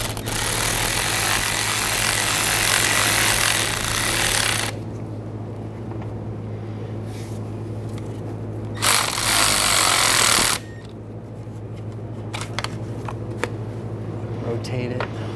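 CV axle boot clamps are tightened on a 2011-2018 Volkswagen Jetta TDI wagon, with bursts of loud rapid ratcheting clicks from a tool, separated by quieter pauses with faint taps and handling noise.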